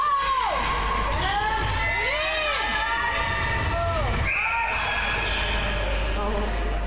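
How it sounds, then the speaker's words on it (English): At an Ireland versus Isle of Man under-17 football match, spectators cheer and shout with a steady roar from a distance, and a commentator's voice runs over the crowd throughout. "The Irish crowd are nice and loud."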